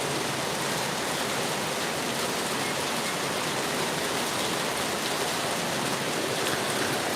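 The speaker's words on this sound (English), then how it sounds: "It's raining. How am I going to do this in the rain?" Steady rain falls outdoors at an outdoor cooking spot, a dense, even hiss of drops that holds at a constant level throughout with no voices.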